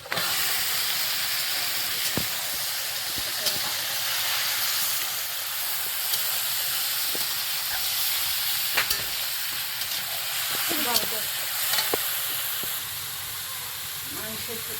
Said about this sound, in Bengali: এই মশলাটা ভেজে নিয়েছি এবার এর মধ্যে মাংসটা মাংসটা অনেকক্ষণ বেশ মাখানো আছে